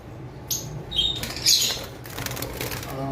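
Caged lovebirds flutter and flap in short bursts, with a few sharp chirps rising above a steady low room hum; the wingbeats come in three or four brief clusters spread across a few seconds.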